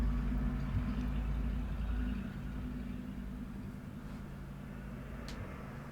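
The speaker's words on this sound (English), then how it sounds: "that's a loud truck" A loud truck rumbles past outside, a heavy low drone that is strongest at first and then fades steadily as it moves away, with no talking over it.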